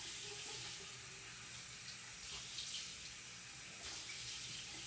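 Steady running tap water from a bathroom sink while rinsing the face during a face wash, a continuous soft splashing hiss with slight fluctuations, fairly quiet and with no talking.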